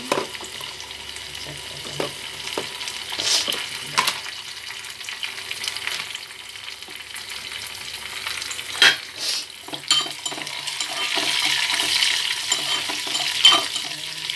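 Leafy greens (koyya thotakura, amaranth) fry in a pan with a steady, close sizzle, broken by intermittent stirring scrapes and clinks, with no talk.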